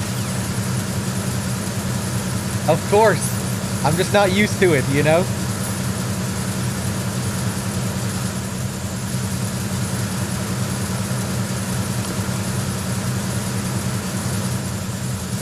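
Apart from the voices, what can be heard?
tanker engine room noise in Metal Gear Solid 2 video game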